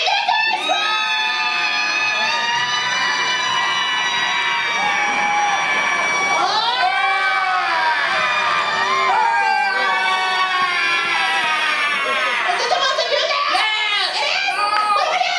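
A live audience at a Universal horror make-up stage show screams and cheers loudly and steadily, with shrill children's and adults' yells layered over a dense crowd roar throughout.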